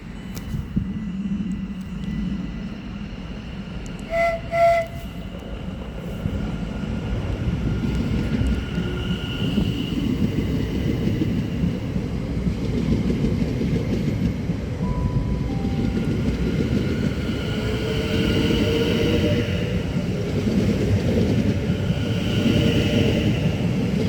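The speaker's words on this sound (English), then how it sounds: "Now ready to depart is the South Western Railway service to London Waterloo, which is worked by brand new 701s" A brand new South Western Railway class 701 electric train departing Reading for London Waterloo, a steady rising rumble and hum of traction and wheels that grows louder over about twenty seconds, with brief high tones early on.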